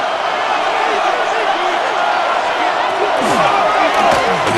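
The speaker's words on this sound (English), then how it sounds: "Crowd noise rises." Stadium crowd roar from the video game Madden NFL 26, a Ravens versus Bengals matchup, holds as a steady loud wash of voices that swells slightly near the end, with faint commentary-like speech underneath.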